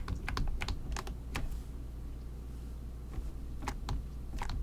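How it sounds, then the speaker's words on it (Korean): Computer keyboard keys tapped close by, including shift and arrow keys, in short clusters of crisp clicks with a pause in the middle, over a steady room hum. "얘네를 시프트 눌러서 다 잡아서 오른쪽 방향키로 이렇게 밀어주시면 됩니다"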